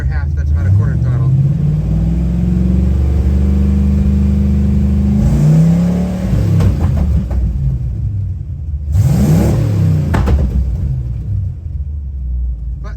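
A 1970 Ford engine revs under roughly quarter throttle, a loud, steady rumbling drone that rises in two sharp bursts of revving, with a speaking voice at times.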